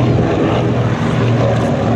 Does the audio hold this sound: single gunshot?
no